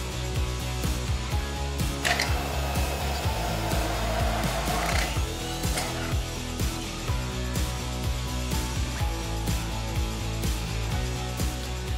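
A bamix hand blender fitted with its beater attachment whirs steadily while combining ingredients into a creamy mix for quiches or flans, a continuous motor buzz with soft rhythmic clicks and splashes as it moves through the bowl.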